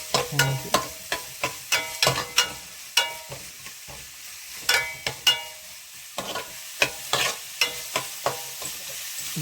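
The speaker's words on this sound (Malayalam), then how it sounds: "കുറച്ച് കടുക് വറുക്കണം" Mustard seeds crackle and pop in hot oil, sharp irregular snaps over a low sizzle, close by with no talking.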